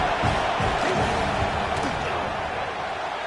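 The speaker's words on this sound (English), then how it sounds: "This crowd trying to do its part to get inside the kicker's head." Stadium crowd noise at an Oregon football game as the field goal team lines up for a fourth-down kick, a loud sustained roar filling the whole stretch, with faint thumps underneath.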